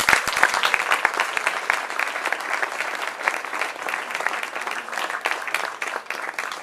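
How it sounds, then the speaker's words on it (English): A seated audience gives a speaker a lively round of applause, many hands clapping continuously and fairly close, with a few sharp claps standing out at the start. "Big round of applause"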